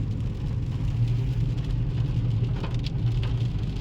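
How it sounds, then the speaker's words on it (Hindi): Heavy rain falls steadily and loudly, a dense continuous hiss and patter close by with a low rumbling undertone. "अच्छी खासी बारिश पड़ रही है।"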